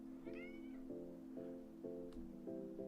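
A cat meows repeatedly, about six short tonal calls at an uneven rhythm, close and fairly quiet, with one higher drawn-out cry near the start.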